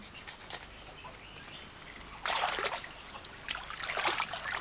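A stream where sacks of pepper berries are soaked flows and trickles steadily, with soft splashing that swells louder in bursts and faint bird chirps in the background.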